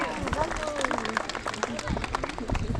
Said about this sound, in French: Et on peut l'applaudir également, ça la motivera.